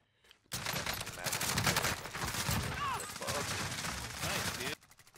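Shotgun fire in Call of Duty Warzone erupts abruptly after a short near-silence as a loud, sustained volley of overlapping blasts and crackling impacts, with game effects mixed in, then cuts off sharply near the end.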